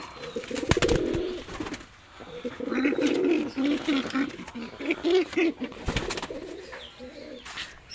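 Pigeons coo softly in repeated low, throaty phrases nearby, with a couple of brief sharp rustles between the calls.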